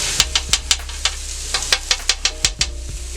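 Fried rice with garlic butter sizzles on a Steelmade flat-top grill while a spatula taps it repeatedly: a steady, close hiss under a quick, even run of about a dozen sharp metallic clicks.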